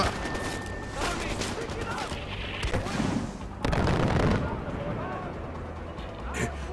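Gunfire bursts and mortar booms from the Far Cry 4 video game fill the mix, with dense rattling shots and a heavier blast near the middle, while players talk over the combat.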